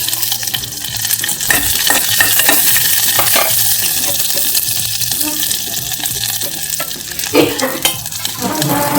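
Garlic and green chillies fry in a pan for a South Indian rasam, with a continuous sizzle under repeated scraping and clinking stirs of a spoon against metal.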